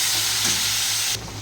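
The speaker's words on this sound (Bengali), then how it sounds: "তো ওলের ডাঁটাটা দিয়ে দিই, ভালো করে কষিয়ে নেবো একটু" Arum stems sizzle and fry in a wok with spices, a steady loud hiss with stirring scrapes that drops off abruptly near the end.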